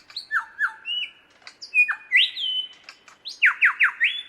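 A lyrebird sings alone, mimicking a shrike thrush in a clear series of whistled, sliding phrases, some rising and some falling, with short chirps in between.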